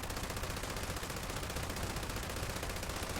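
Video game gunfire as a whole magazine is emptied in one unbroken, loud, rapid automatic burst that fills the entire clip with steady shots.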